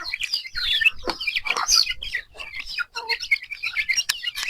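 Month-old chicks chirping in a coop, a dense overlapping chorus of high, thin peeps close by, continuous and busy with no talking.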